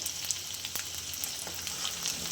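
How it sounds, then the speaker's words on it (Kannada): Garlic frying in hot oil gives a steady, close, crackling sizzle with small popping bursts throughout, with no talking. "ಈಗ ಬೆಳ್ಳುಳ್ಳಿ ಹಾಕ್ತಾ ಇದ್ದೀನಿ ಬೆಳ್ಳುಳ್ಳಿ ಒಂದು ಸ್ವಲ್ಪ ಕೆಂಪಾಗಲಿ"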